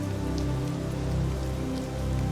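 Steady rain patters in a soaking downpour, a dense continuous hiss of drops on surfaces with no voices, even and unbroken throughout.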